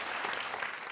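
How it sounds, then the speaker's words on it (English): Audience applause at a staged music competition semifinal show, a dense, steady burst of clapping from a large crowd. "the applause is always different, and this was a huge applause"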